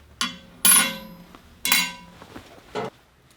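A paint can opener pries a metal part out of an oscillating spindle sander in a wood shop, making several sharp, close metallic clinks and taps spaced irregularly over a quiet background.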